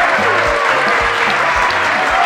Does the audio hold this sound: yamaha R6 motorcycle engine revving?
no